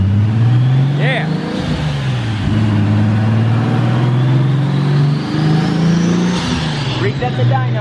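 A Nissan 280Z on a dyno holds a loud, steady engine drone that rises and falls slightly with the revs over about eight seconds, close and continuous, with a voice talking briefly over it.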